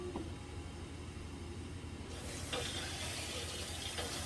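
Tap water gushes from a faucet to fill 1.5 cups for a kitchen recipe, starting about halfway through as a steady, fairly quiet hiss after a near-silent opening.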